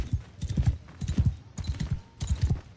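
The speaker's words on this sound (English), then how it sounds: "If I remember to slow the horse down" Horse hooves gallop in Mount & Blade II: Bannerlord, with rapid clip-clop beats in steady repeating clusters, close and distinct with no voices.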